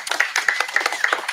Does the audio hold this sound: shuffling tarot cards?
no